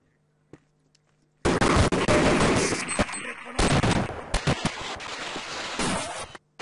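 Heavy gunfire in Half-Life: Opposing Force erupts after a brief quiet moment, dense overlapping shots and bursts rattling loudly for about five seconds with a short break midway.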